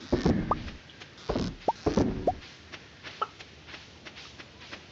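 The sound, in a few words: chickens clucking in video game Stardew Valley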